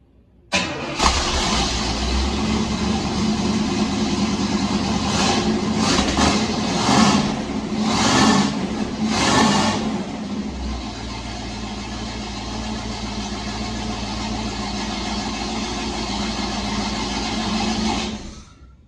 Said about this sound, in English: we'll see what this thing sounds like